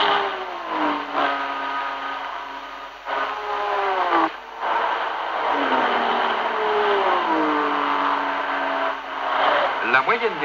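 Vintage race cars, Porsche among them, at the 1966 24 Hours of Le Mans, engines droning and shifting pitch loudly and continuously as they pass at speed, with a voice narrating over them.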